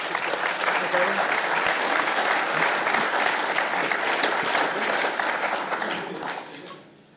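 Audience applause fills a lightning-talk session at an open-source geospatial conference, a steady dense clapping that carries most of the clip before tapering off, with a brief spoken exclamation over it.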